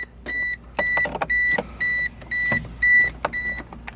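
Ignition of a 1999 Mitsubishi Eclipse GSX switched on, followed by a regular series of about eight short electronic chime beeps with faint clicks between them, close and clear inside the car.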